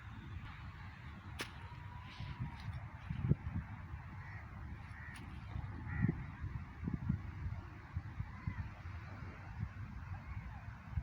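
Birds calling in a forest near Karachi, honking and crowing cries over a low rumble of background noise, with a sharp crack here and there, at moderate distance.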